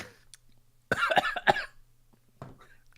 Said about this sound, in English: Actually coughing.